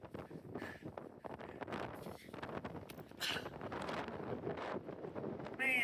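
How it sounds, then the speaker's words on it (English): Strong wind buffeting the microphone on a ridge in Canyonlands, rough gusty roaring bursts that swell and fade unevenly, close and loud, with faint voice-like sounds mixed in. "That's how strong the wind is blowing."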